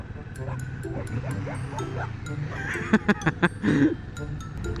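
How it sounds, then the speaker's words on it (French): A few short, sharp dog barks in quick succession, then a longer yelp, rising over steady traffic rumble and a murmuring voice. "Oh les chiens."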